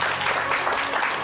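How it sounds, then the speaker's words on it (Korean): Studio audience on a Korean morning talk show giving a brief, steady round of applause, a dense wash of clapping with no pause. "큰 박수 부탁드립니다"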